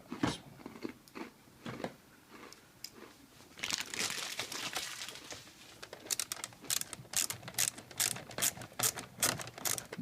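Ratchet screwdriver working at the screws of a Pentair Racer pool cleaner, a run of quick mechanical clicks and ticks with louder rapid ratcheting bursts in the second half, close up and with no talk.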